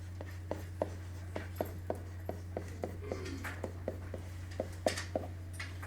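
Chalk or marker tapping and stroking on a board as six factorial is written out, a quick series of short sharp taps, close and fairly quiet, over a steady low electrical hum.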